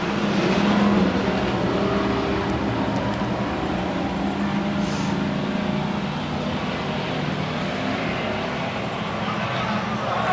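Bomber-class race cars roar around the oval at Central Arizona Speedway at the green flag, a dense, continuous engine drone at middle distance, with some talk over it.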